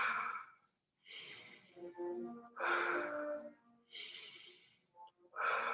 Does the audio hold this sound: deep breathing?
yes